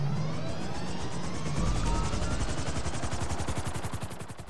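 Helicopter in the video game GTA 5, a loud, close rotor chopping with rapid rhythmic blade thumps that speed into a dense pulsing beat and fade slightly at the end, with no talking.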